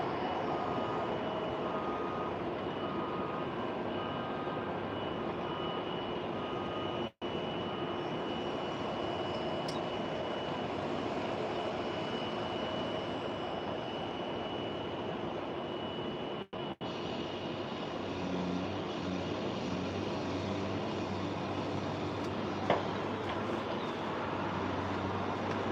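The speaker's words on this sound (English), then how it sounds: "Southwest flight rolling down" A Southwest airliner rolls down the runway, a steady broad engine roar and rumble heard from a distance, continuous and even for the whole stretch with a few brief dropouts and no talk.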